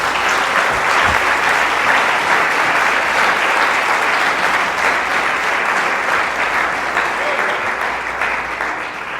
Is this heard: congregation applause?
yes